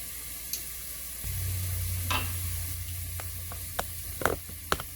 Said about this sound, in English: Next, we're going to add our garlic.